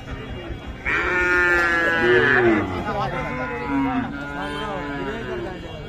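A cow moos loudly and nearby at a cattle market in a long, drawn-out low call, then lows again more softly, with faint voices in the background.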